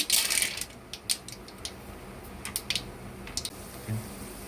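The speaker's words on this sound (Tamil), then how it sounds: "கடுகு வந்து இப்போ பொறிஞ்சிக்கிட்டு இருக்கு" Mustard seeds splutter in hot oil in a pan with sharp, scattered pops and crackles, several close together at first and then fewer, over a quiet background.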